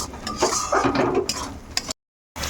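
A Bengali spice paste (masala) is stirred and fried in a pan, with close scraping and clinking of a utensil against metal over a soft sizzle, broken by a brief silence.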